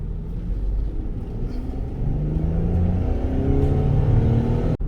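A 2020 all-wheel drive Ford van pulling away and driving, its engine a steady low rumble with a slight rise in revs, close and continuous with no talking.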